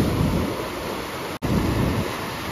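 Sea waves break and surge in a steady, loud, broadband roar with wind buffeting the microphone, close and continuous apart from a brief cut.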